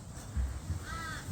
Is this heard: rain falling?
no